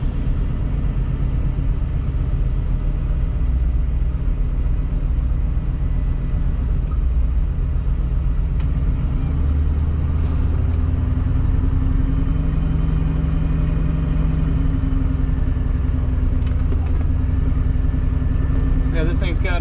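A 1989 Ford F250 pickup with a 460 engine and five-speed manual pulls away in first gear, a steady low engine rumble and drone running the whole time, close and loud, with rising pitch as it revs.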